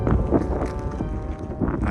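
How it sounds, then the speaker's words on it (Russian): Strong wind gusting across a bare hilltop, a loud rumbling buffet against the microphone that swells and eases over a couple of seconds. "такой ветер поднялся"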